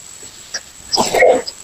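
A single short, rough cough burst, close and fairly loud, with a softer throaty sound just before it.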